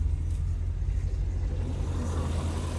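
A fuel-injected 5.7-litre V8 in a 1988 Corvette 35th Anniversary idles steadily, a deep, even engine rumble held close and constant throughout with no voices.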